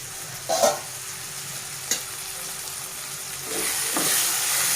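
Carrots and tomatoes cooking in a pan, a soft steady sizzle and hiss with a few stirring scrapes and clinks, the frying growing slightly louder toward the end.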